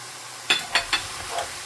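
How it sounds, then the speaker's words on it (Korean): Eggplant, pork and onion stir-fried in a pan with a little raw sugar, giving three sharp scraping stirs in quick succession followed by a softer one over a faint sizzle, close by with no talk. "이렇게 볶아주다가 자, 양파 먼저 넣어줍니다"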